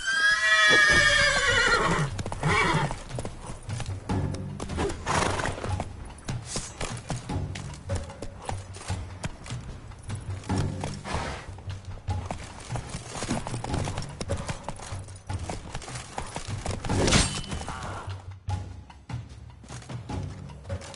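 Horse from The Witcher 3 neighs loudly at the start, then gallops in a steady, continuous clip-clop of hooves, with brief game voices in the background.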